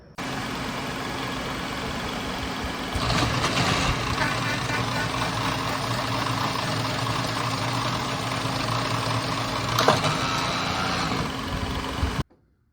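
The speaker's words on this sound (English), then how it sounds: "This Brown & Sharp horizontal milling machine is what we use to slot our American-made screws with." A Brown & Sharp horizontal milling machine slots American-made screws with a steady mechanical drone that grows louder partway through, then cuts off abruptly.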